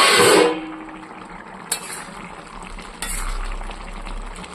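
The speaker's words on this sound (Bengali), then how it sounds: "আমি একবার ঢাকনা খুলে দেখব।" A lid comes off a pot of simmering nate greens with prawns: a brief metallic clatter and clink near the start, then a soft steady bubbling and faint knocks, close and fairly quiet.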